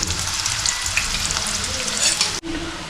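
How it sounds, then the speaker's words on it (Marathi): Onions frying in a pan until golden brown while being cooked for a crab recipe, a steady loud sizzle with stirring scrapes, cutting off abruptly near the end to a quieter hiss. "कांद्याला असा मस्त ब्राऊन कलर येतोवर त्याला शिजवायचं आपल्याला"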